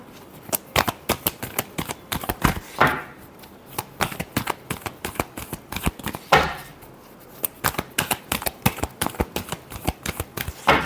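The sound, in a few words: shuffling tarot cards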